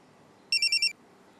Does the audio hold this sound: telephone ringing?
yes